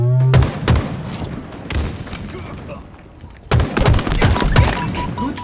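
Rapid gunfire in Halo Infinite arena multiplayer, loud and close, with an opening volley, a quieter stretch of scattered shots, then a second dense burst, and game voice lines heard among the shooting.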